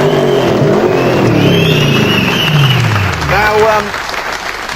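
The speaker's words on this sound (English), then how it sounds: "The sound of V8 thunder." V8 engine of a concept car revving loudly and rising in pitch before easing off, with crowd applause and a voice speaking over it.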